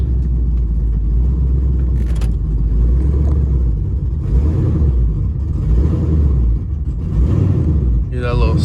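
A Pontiac G8 with a 370 LS engine idles and revs loudly up close, its deep steady rumble rising in a brief surge toward the end, the engine running rough and in need of a tune.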